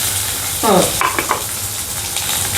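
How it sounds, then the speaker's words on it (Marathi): Onion sizzles in a frying pan and is stirred, a steady hiss broken by a short burst of scraping and clinking from the spatula midway. "आता आपण कांदा घालूया."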